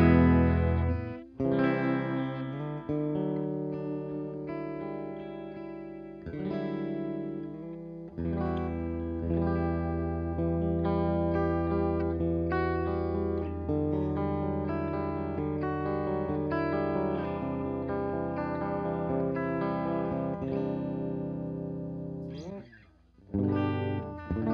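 An electric guitar plays through a Paul Reed Smith amp's clean channel, bass and treble at noon with presence and reverb off, ringing sustained chords and notes steadily with no talking.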